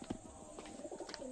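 Pigeons kept in a loft coo softly, with a few low, throaty calls and faint chirps over quiet background noise.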